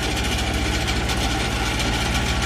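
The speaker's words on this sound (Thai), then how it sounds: "เครื่องยนต์ดีเซล2สูบ" A Bobcat loader's two-cylinder diesel engine idling close by, a steady loud chugging rumble with an even low knocking pulse and no other sounds.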